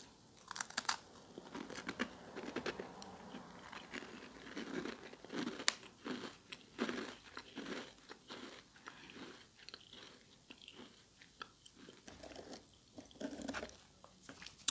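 Someone bites and chews a crispy waffle biscuit close to the microphone, with repeated sharp crunches and crackles in an uneven rhythm over about fifteen seconds.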